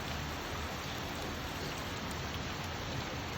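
Steady, dense rain falling on a rainy day, a constant even hiss with no pauses and no voices.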